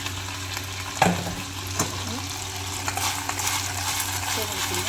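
Stuffed ivy gourds fry in a pan with a steady, close sizzle. A couple of sharp utensil clinks break through early on.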